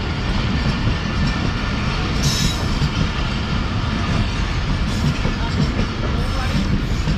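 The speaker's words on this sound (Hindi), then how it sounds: "फाइनली ट्रेन जो है वो जा चुकी है मलीर कॉलोनी रेलवे स्टेशन से।" A train of Pakistan Express pulls away from Malir Colony railway station in Karachi, a loud, close, continuous rumble of wheels and carriages with rhythmic rail clatter and a brief high squeal.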